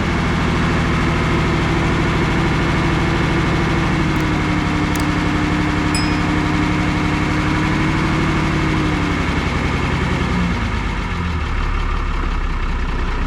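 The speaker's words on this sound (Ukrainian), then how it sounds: "Гарна робота двигуна." A heavy six-cylinder MAN diesel engine idles steadily and loudly up close, a low rumbling drone that shifts slightly in pitch near the end.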